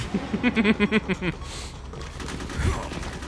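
Gunfire in the video game Metal Gear Solid: a rapid burst of about eight loud, evenly spaced shots, then a quieter stretch with a single low thump near the end.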